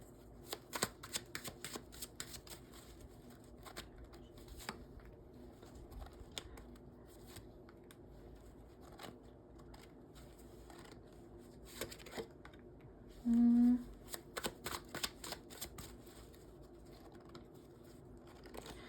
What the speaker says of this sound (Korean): 저 추가로 카드 뽑아보면서 여러분들의 오게 될 행운 한번 보도록 하겠습니다